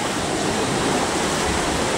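Water pouring into a canal lock in Strasbourg, Alsace, France, to raise a boat: a loud, steady rushing roar like a waterfall, continuous throughout with no voices.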